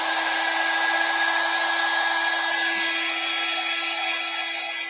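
A hair dryer runs steadily at close range while drying acrylic paint, a constant whirring hum with a pronounced tonal whine that holds for the whole span and tapers slightly at the end.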